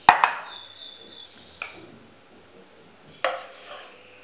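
A metal cooking pot clanking as it is handled while oil and ghee go in, a few sharp metallic knocks and ringing scrapes spaced apart in a quiet kitchen.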